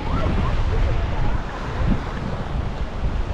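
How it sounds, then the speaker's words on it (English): Strong wind sweeps along the Wellington waterfront, a steady roaring rush with gusty swells that buffet close to the microphone throughout. "it is windy today"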